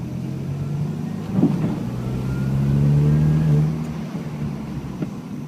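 Car engine in third gear, fully warmed up, given wide open throttle from idle; a steady mid-low engine drone swells into a louder held rev for a second or so, then settles back, with no talk.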